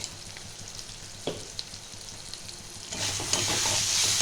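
Khichuri frying in a pan with cumin powder and Kashmiri chilli powder, steady sizzling broken by a few scraping stirs, then the sizzle surges louder and brighter toward the end, close and alone.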